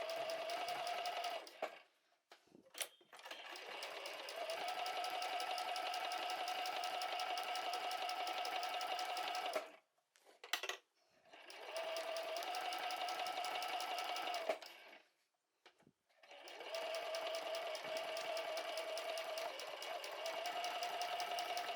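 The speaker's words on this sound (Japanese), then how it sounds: "その後、ポケットの底を縫います。" Sewing machine stitching across the bottom of a large fabric pouch pocket, running in three long steady bursts separated by brief pauses, close and loud.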